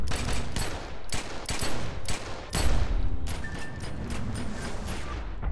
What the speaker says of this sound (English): I'm digging these pistols.